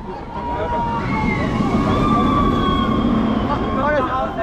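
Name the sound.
alarm siren at Parc Astérix amusement park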